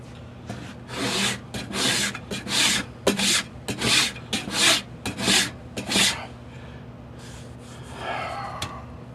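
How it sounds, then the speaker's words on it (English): Surform planing rasps file down the lock panel of a wooden flintlock rifle stock, a rhythmic run of close, loud, breathy rasping strokes, about a dozen in a row, then a softer final pass. "using these two Sureform planing rasps, I've got the lock panel down to the dimension I want"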